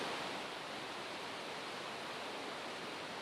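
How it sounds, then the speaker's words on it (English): Reid Falls, a waterfall just past the Gold Rush Cemetery in Skagway, Alaska, pours with a steady, loud, broadband rush of falling water that stays constant throughout, with no voices. "here's Reed Waterfalls, or Reed Falls. It's in Skagway, right beyond the Gold Rush Cemetery."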